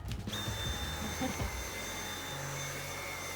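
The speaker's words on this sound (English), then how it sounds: "Time for my morning vacuum." A vacuum cleaner drones steadily throughout on a boat, a constant close whine with a high tonal hum, and a few faint knocks early on.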